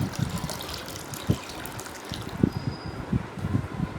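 Cold water pours steadily into a mango juice mixture in a kitchen, a gushing, splashing flow with small irregular sloshes, close by and fairly quiet.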